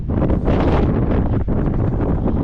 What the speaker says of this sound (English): it's cold up here and very windy